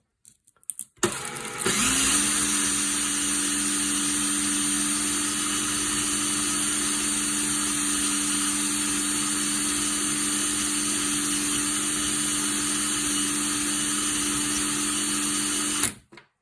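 A Joseph Lang & Sons gun under misfire repair has metal taken off it by a coarse power tool, a loud, steady, high-pitched whine that starts abruptly and runs unbroken for about fifteen seconds before cutting off.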